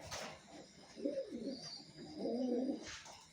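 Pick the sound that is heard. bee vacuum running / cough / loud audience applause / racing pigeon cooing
racing pigeon cooing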